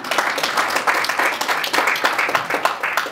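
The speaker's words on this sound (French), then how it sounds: "Brice, on t'applaudit." Rhythmic clapping from a small audience at a press conference, steady hand claps repeating several times a second, moderately close and without talk.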